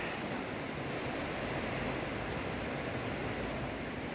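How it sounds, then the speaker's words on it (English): A flooded river rushes in a dense, steady roar of churning water, broadband and unbroken throughout, with no voices over it. "it's a flooded river"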